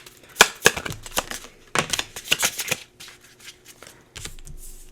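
Tarot cards are shuffled close up in two sharp, riffling bursts, each a rapid flutter of snapping card edges, followed by softer, quieter handling.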